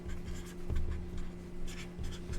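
Marker or chalk writing on a classroom board during a geometry lesson, faint scratchy strokes over steady room hum, no voices.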